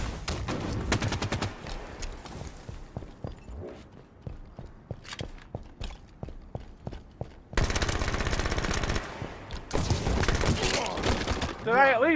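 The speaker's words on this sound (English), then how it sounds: "He just started shooting me at that point and killed me." Gunfire in the video game Halo 5, with rapid bursts of automatic shots, then spaced single shots and thuds, then dense sustained firing up close, with speech mixed in at times.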